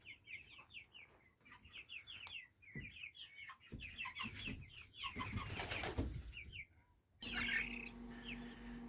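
Chickens cluck continuously in a coop during evening chores, a busy overlapping chorus of soft clucks and calls nearby, with some wing rustling and a louder burst of activity near the end.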